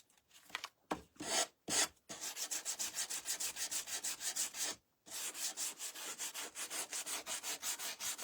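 Wood edges being hand-sanded for a shabby chic bedroom project, rendered as steady, close rhythmic rasping strokes in quick succession, broken by a few short pauses, with no talking.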